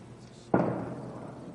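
A single firework-like burst from the game Horizon Forbidden West, a sharp loud bang followed by a decaying rumble, heard alone after a quiet lead-in.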